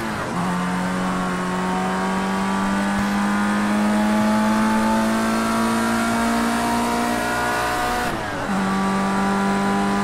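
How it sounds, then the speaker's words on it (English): Tires squeal loudly from a Formula Rookie race car at the Algarve circuit in the Project CARS 2 racing game, a long rising screech over engine roar that cuts out briefly and then starts again. "I really like the tire squeal sounds in this game."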